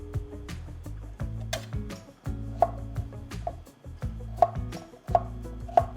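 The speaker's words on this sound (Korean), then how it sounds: "이렇게 납작납작하게 잘라서 준비하시면 되고요" Knife slicing vegetables into flat pieces on a cutting board, a series of close, crisp taps in uneven rhythm over a soft background hum, with no talking.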